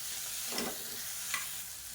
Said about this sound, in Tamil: இதையும் சேர்த்து வதக்கி விட்டுக்கலாம்